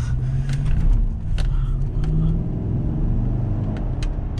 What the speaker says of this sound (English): This is a 6-liter V8 gas engine in this truck.